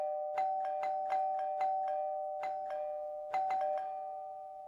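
A doorbell at a house rings repeatedly with quick, quiet electronic chime pulses in uneven bursts over a steady tone, with no voices.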